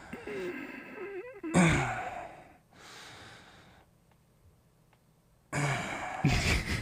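A person imitates forced, labored breathing, holding the breath and then pushing air out in strained huffs and snorty exhales, near and fairly loud, with quieter breathy stretches between the pushes.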